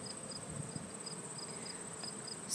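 A steady, faint insect hum with light buzzing of honeybees droning close by at an open hive, with no voices.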